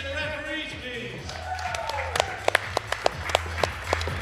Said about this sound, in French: A big hand of applause to the volunteers and referees, please.